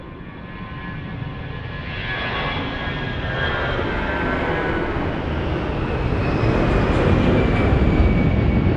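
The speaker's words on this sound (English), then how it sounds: "He's off to Madeira, flight uniform 27603." An airliner takes off from Lisbon bound for Madeira, its jet engine roar building steadily from moderate to loud and sustained, heard close with no talk.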